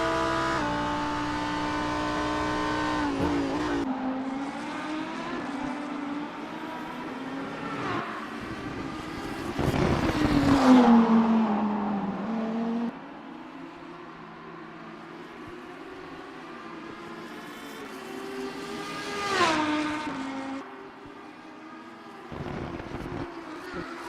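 Onboard engine of the number 42 Lamborghini race car during a Super Trofeo race at Long Beach, a loud steady roar rising and falling through gear changes, with sharp upshifts and revs climbing and dropping throughout.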